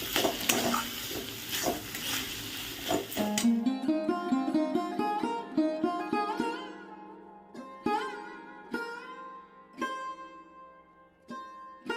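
Rohu fish rubbed with salt and turmeric sizzles as it is set into a hot pan, a loud broad frying hiss for a few seconds that gives way to sparse, sharp clinks and taps of utensils.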